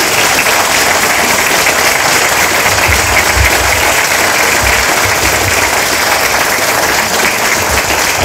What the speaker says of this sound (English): Let's give him a nice round of applause for joining us.